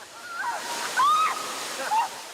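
A waterfall on Réunion Island rushes steadily, a broad hiss filling the air, while a few faint higher voice-like sounds surface briefly over the spray.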